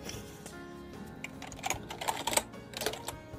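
Keys clicking on a Preo My Games Titanium series mechanical gaming keyboard, quiet and close, with a few sharper taps clustered in the second half.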